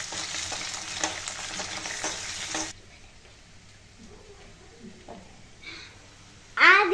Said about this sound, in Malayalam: എന്നിട്ട് അതിലോട്ട് 2 മുട്ട ഒഴിച്ചു കൊടുക്കാം. ഇത് ഇളക്കി കൊടുക്കാവേ.